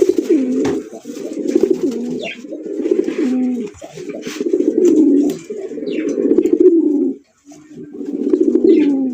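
Several pigeons cooing in repeated rolling phrases, close and fairly loud, with short pauses between bursts and faint chirps in the background; no talking.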